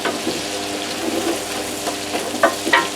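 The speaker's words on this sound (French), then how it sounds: "On va dorer tout ça un tout petit peu." Chunky carrots and aromatic vegetables browning in a pan for beef bourguignon, a steady soft sizzle with occasional stirring scrapes and clicks, close by and with no talking.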